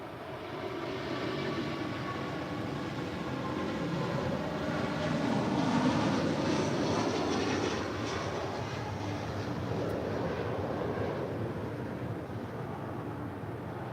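An airliner on the runway at LAX spools up and takes off, its jet roar building into a broad, steady rumble that swells toward the middle and then holds. The roar is loud and continuous, with no voices over it.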